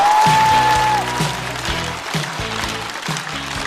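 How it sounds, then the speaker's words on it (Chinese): A stand-up comedy audience breaks into loud, sustained applause to welcome a comedian to the stage, dense clapping that fills the room, with music playing underneath. "马上要上场的这位演员，脱有3季的宣发组组长，掌声欢迎季烨。"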